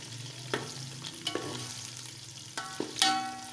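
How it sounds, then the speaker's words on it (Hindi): Beef kebabs frying with browned onions in a pan, a steady low sizzle broken by several sharp scraping and stirring knocks of a utensil against the pan, no voices. "अपने बीफ कबाब हैं इनको अच्छी तरह कर लेते हैं फ्राई"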